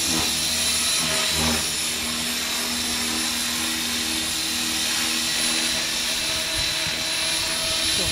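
A T-REX 500 EFL Pro RC helicopter flies on its first outing, its rotor and motor a loud, steady whirring drone with a constant high whine, near and unbroken for the whole stretch.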